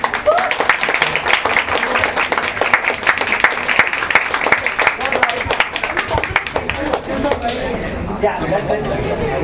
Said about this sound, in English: I think I can give a big round of applause.